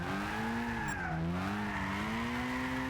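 Drifting RE Amemiya RX-7 in Gran Turismo 6, its tyres squealing in a steady, loud skid whose pitch bends and wavers across the slide, continuous with no talk over it.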